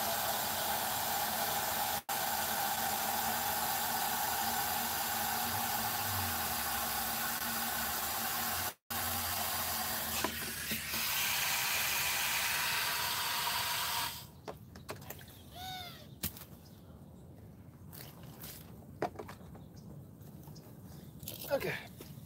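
A garden pump sprayer applying compost tea to plants outdoors, giving a long steady hiss that runs loud and close for most of the stretch before breaking off, followed by quieter intermittent sounds and faint birdsong.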